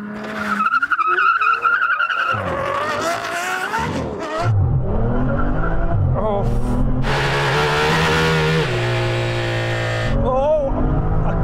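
Aston Martin Valkyrie, Vanquish and V12 Vantage in a drag race, engines screaming and revving through rising gear pulls with shifts and a brief tire squeal, loud and close.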